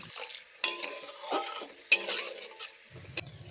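Tomatoes and water are stirred in a pot for a small-fish curry, a quiet sequence of utensil scrapes and a few sharp metallic clinks against the pot, with a faint sizzle underneath and no speech.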